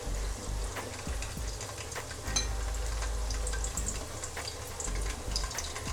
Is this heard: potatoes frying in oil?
yes